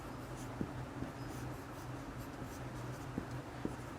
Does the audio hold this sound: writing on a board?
yes